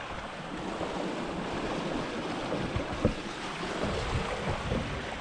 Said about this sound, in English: Now, woo, got some good wind.